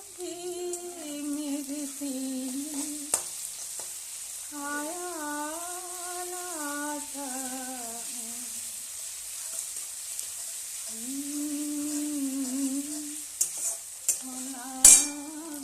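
Meat frying in oil with spices, a continuous sizzling hiss with occasional stirring clinks, while a tuneful melody drifts over it in phrases.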